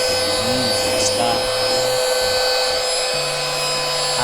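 A Xiaomi Mijia Coclean vacuum cleaner running indoors with a steady, loud motor whine and airy hiss that stays constant throughout, mixed with faint background tones.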